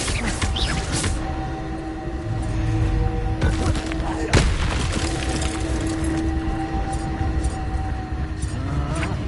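Confringo explosive spell from Hogwarts Legacy, a dense booming and cracking blast with a sharp impact midway, surrounded by rumbling game ambience and splintering debris.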